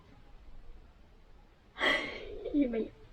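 A yawn during a singing lesson, a single breathy open-mouthed exhale that slides down into a soft voiced tail, close and fairly quiet against a near-silent room.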